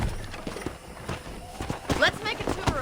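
Horse hooves clip-clop at a walking pace on a ranch in Red Dead Redemption, in a quick, uneven rhythm of sharp knocks mixed with soft game ambience.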